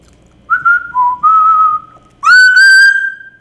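A person whistles alongside Jackson, a pet parrot, in a series of loud, close, clear tones: three short level notes, then a longer rising note with bright overtones, against near silence.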